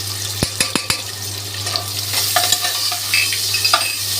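Onion with turmeric stir-fried in a pan, a steady close sizzle throughout with a few sharp scraping knocks of the utensil early on and lighter clinks later, no voices.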